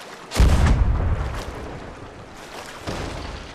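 Ship cannons fire in a video game, a heavy booming blast followed by a rumbling tail and a second duller boom, loud and up close with no talking.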